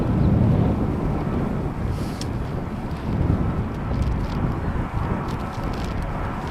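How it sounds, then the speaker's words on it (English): Airplanes taxiing at Amsterdam Schiphol Airport, heard as a steady, broad rumble of distant jet engines mixed with outdoor wind noise, continuous and fairly loud throughout with no talking. "So 3 planes taxiing this way, and I can see a couple more underway."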